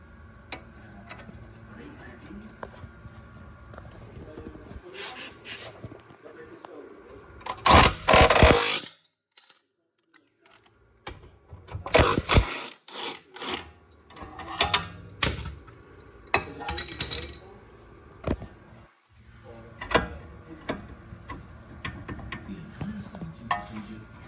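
A wrench works 21 mm camber arm bolts loose on a Tesla Model Y Performance or Model 3 Long Range, giving irregular metallic clicks, ticks and clanks with a few louder bursts and short pauses between them.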